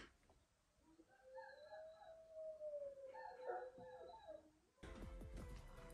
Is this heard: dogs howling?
yes